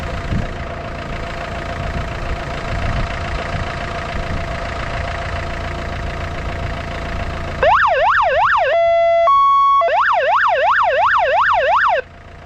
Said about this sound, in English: I'll whack the siren and lights on